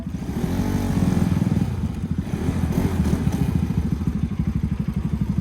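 A Yamaha R25 motorcycle engine runs close by with a loud, rapid rhythmic thrum that rises in a rev near the start and then settles into a steady pulsing beat.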